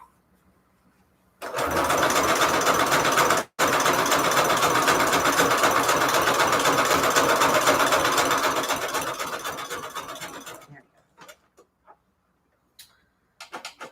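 Sewing machine stitching the widest zigzag on scrap paper, a fast, loud, rhythmic mechanical chatter running about nine seconds with one brief pause, then a few short clicks and ticks.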